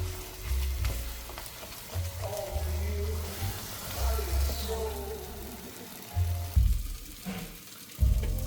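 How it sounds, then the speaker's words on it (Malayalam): Sardine curry bubbling and simmering in a pan, a low irregular burbling with sizzling texture, moderately close, accompanied by intermittent low thumps and a little background voice. "നല്ല സൂപ്പറായിട്ട് തിളച്ച് മറിഞ്ഞ് കിടക്കുന്നുണ്ട്"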